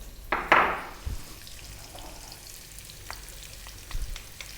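Onion, garlic and ginger dropped into olive oil over above-medium heat, giving a sudden loud sizzle burst early on that settles into a quieter steady frying hiss, with a few soft stirring clinks.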